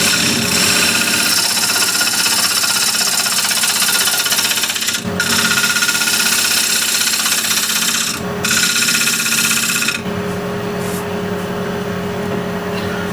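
A wood lathe spins as a tool cuts the outside of a twenty-year-old wooden bowl. The scraping is loud, harsh and continuous, breaking off briefly twice before it resumes at a slightly different pitch.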